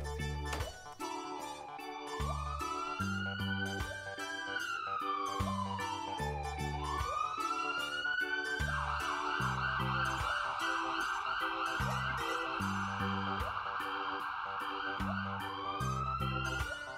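A toy ambulance siren sounds during play with Cars toys, a loud continuous electronic wail that sweeps up and down, then shifts to a faster yelp, alongside a steady beeping pattern for the full seventeen seconds.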